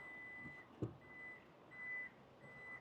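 A power tailgate with kick sensor on a 2026 Toyota Yaris Cross 1.5S petrol gives three evenly spaced electronic beeps, separated by a brief thump, over quiet outdoor ambience.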